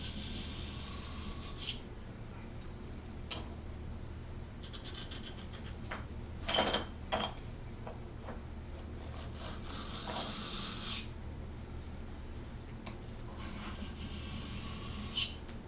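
Steel blade rubbed back and forth across a sharpening stone, alternating sides, giving a soft steady rasping scrape with a few brief louder scuffs, close by over a constant low hum.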